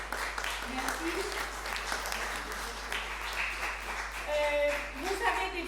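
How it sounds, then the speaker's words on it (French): After a Peter and the Wolf concert, an audience in a hall keeps up a continuous patter of moderately distant applause while voices talk over it. "Applaudissements en lumière et son"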